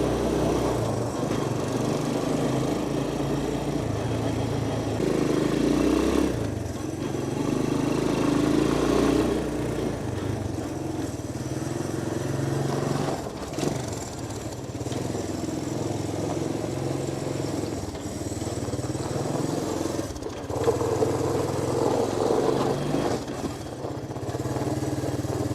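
A 1984 Honda ATC200ESM Big Red three-wheeler idles low and steady close by, its engine holding an even drone for the whole stretch with a few small bumps in level.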